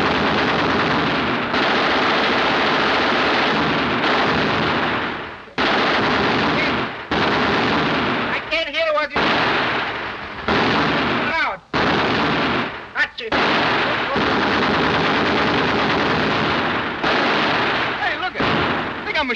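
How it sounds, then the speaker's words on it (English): Loud, sustained bursts of automatic gunfire with brief gaps, rapid rattling shots dominating the scene, harsh and close. "machine guns you can carry"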